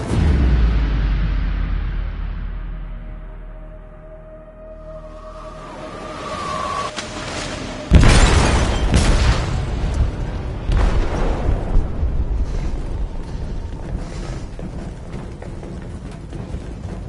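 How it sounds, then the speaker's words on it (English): A deep explosion in a ship's hold in the video game Detroit hits suddenly after a falling tone, then gives way to a long, rolling rumble and debris-like crackle that fills the rest of the scene. "They detonated an explosive in the hold."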